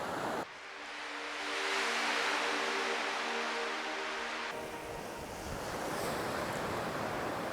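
Surf washes onto the beach at Durdle Door in a broad, continuous roar, mixed with heavy wind buffeting the microphone, and a tonal hum drops out partway through.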